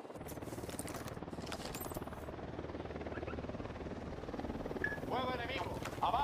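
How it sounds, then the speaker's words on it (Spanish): Helicopter approaching in the tactical shooter Ghost Recon Wildlands, a steady rotor chop and engine drone building under gunfire-like clicks and game effects, with no speech over it. "Se acerca un helicóptero al suelo."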